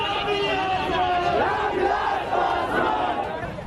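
A dense crowd packed together at a 2020 Bihar election rally shouts and chants loudly and continuously, many voices overlapping at close range.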